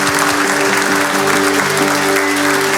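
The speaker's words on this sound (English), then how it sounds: "Guys, you clap." Congregation clapping at a resurrection church service, loud, fast, continuous handclaps from a crowd, close and dense, with music tones running underneath.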